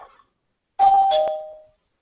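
A two-tone doorbell chime sounds once, loud and close, ringing briefly before fading into silence.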